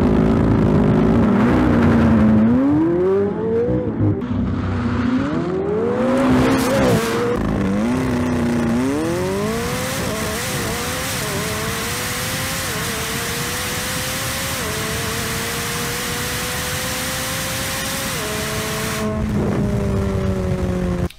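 A Ferrari SF90 and a McLaren 765LT drag race at a drag strip, engines loudly revving and climbing through gear shifts, with rising and dropping tones and a sustained roar as they accelerate away.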